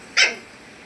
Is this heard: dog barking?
yes